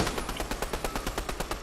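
Rapid gunfire in the video game Fortnite, a fast, even burst of about a dozen sharp shots in quick succession, loud and close with no talk over it.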